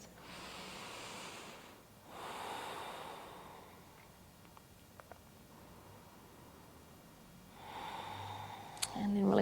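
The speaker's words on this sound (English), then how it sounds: "just last couple of deep breaths" Slow, deep breaths during a quiet yoga session, soft whooshing inhales and exhales with long pauses between, close and gentle, with a low rustle at the end.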